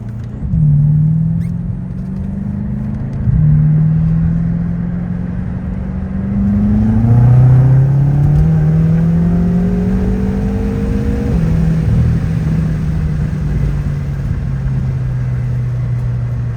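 BMW F10 M5 engine on a dyno in third gear, revving hard in rising sweeps that climb, drop at shifts and climb again, a loud continuous engine roar with no talking.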